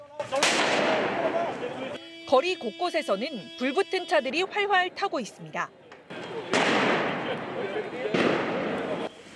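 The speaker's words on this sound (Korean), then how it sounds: "시위대가 경찰을 겨냥해 쏜 폭죽이 경찰 머리 위에서 연이어 터집니다" During street protests in Paris, sharp loud bangs crack out in a burst of close blasts at the start and again near the end, while a news reporter narrates in the middle.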